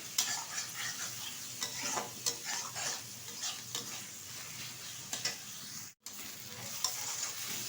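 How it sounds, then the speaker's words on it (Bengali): Ginger, garlic and onion sauté in oil for a red chicken kosha, producing a soft, even sizzle with frequent light spatula scrapes and ticks. There is a brief dropout of sound near the end, and no talking. "ভালোভাবে কিন্তু আদা রসুন পেঁয়াজটা কষিয়ে নিয়েছি তেলের মধ্যে"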